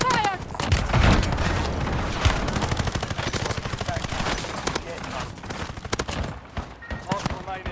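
Rapid bursts of gunfire crackle through a shooter game, dense volleys and machine-gun rattles stacking up near and loud, with a voice talking over part of it.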